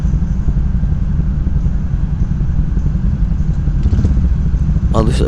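Go-kart engine at an indoor Teamsport track in Sheffield, running rough with a suspected fault mid-race, gives a loud, steady close-up drone with a brief clatter near the end.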